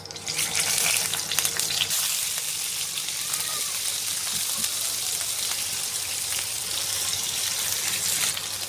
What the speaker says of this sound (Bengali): তো এবারে মাছ ভাজা তেলটাতে আলুগুলো ভেজে নেব।